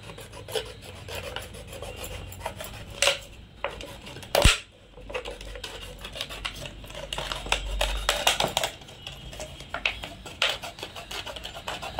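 A plastic cold drink bottle having its top cut off, giving steady rasping, scraping strokes with a few sharper clicks and knocks, close and continuous for the whole stretch with no talking.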